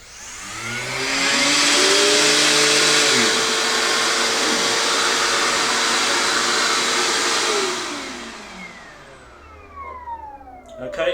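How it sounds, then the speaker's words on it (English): Metabo 18V cordless M-class vacuum cleaner auto-starting when a connected power tool begins vibrating: a loud rising whine that holds steady for several seconds, then winds down, with faint handling noise afterward. "you hear there automatically when the vibration starts on the tool, then the vacuum cleaner will automatically switch on"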